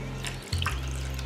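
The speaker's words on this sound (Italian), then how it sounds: "Aggiungiamo poca acqua." Water from a tap runs steadily into a pot of chopped basil, celery, onion and carrot for an Italian tomato sauce, a constant close splashing stream with a short break in the flow.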